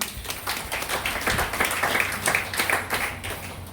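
Rhythmic group clapping from an audience at a DXN meeting in Patna, sharp repeated claps in a fairly quick, uneven beat, filling the room without speech.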